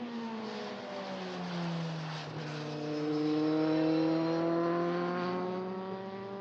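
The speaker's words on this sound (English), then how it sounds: "These magnificent Dallara EF320 Euroformula Open F3 spec cars" Dallara EF320 Euroformula Open F3 race cars at Mugello in sunshine, engines screaming at high revs with rising and falling pitch as they sweep past, loud and steady with no talk.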